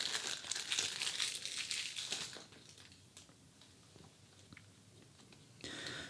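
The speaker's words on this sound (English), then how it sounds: "First things first, we need to get the cellophane removed." Crinkly cellophane is peeled off a Lord of the Rings playing card deck, a crisp close rustle for the first couple of seconds that fades to faint handling before a brief final crackle.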